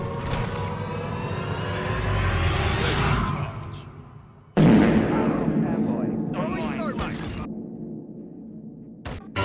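Artillery strike explosions in the Modern Warfare 2 video game: two heavy booming blasts, each rolling off into a long rumbling decay, with game voices calling out over the noise.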